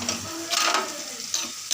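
Onions frying in a pan with ginger-garlic paste and spices, a soft broadband sizzle broken by short scraping bursts of stirring, close and moderately loud, with no voices.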